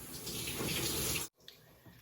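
A shower runs with a steady hiss of spraying water, then cuts off abruptly, leaving faint room sound and a couple of small drips or knocks.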